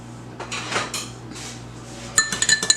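A utensil clinks and scrapes against a bowl while ingredients for Bajan dumplings are mixed, softer rubbing at first, then a quick burst of sharp metallic clinks near the end, close up with no talking.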